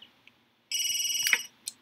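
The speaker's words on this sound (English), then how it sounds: "Why is my phone ringing?" A phone rings in The Sims 3, a bright warbling electronic trill lasting under a second after a few faint clicks, ending with a short click and a brief final chirp, with no voices.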